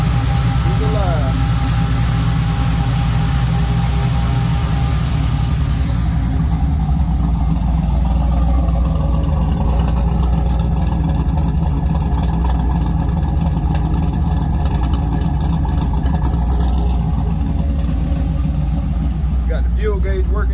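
An LS3 V8 swapped into a Chevrolet C10 truck runs steadily, a loud deep rumbling idle close by with a slight rise in pitch near the end, as someone talks over it.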